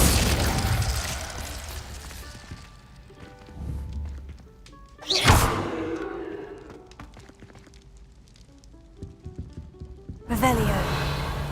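A Glacius freezing spell cast in Hogwarts Legacy gives a sudden loud whooshing burst with a heavy thud, then ringing, crystalline tones that fade, and a second sharp burst near the end.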